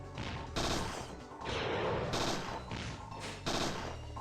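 Loud bursts of gunfire in the video game Parasite Eve 2, several heavy blasts repeating at roughly one-second intervals, dense and close with no voices.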